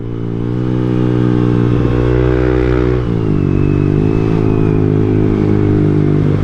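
A Yamaha Aerox SP scooter engine accelerating in sports mode, a loud, close, steady droning hum that dips briefly and then pulls on.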